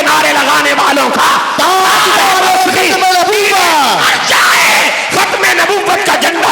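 A large crowd at a religious gathering in Sheikhupura roars slogans in loud, overlapping bursts of yelling and chanting, with strained rising and falling voices surging and breaking off, then swelling again.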